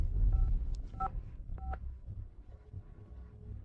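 A telephone keypad sounds several short dialing beeps in an irregular sequence, each a brief clear tone over a low background rumble, followed by a faint steady tone.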